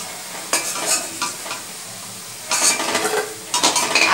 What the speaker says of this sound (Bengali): বড়াগুলোকে ভাজা হয়ে গেছে। এবার আমি বড়াগুলোকে উঠিয়ে নেব।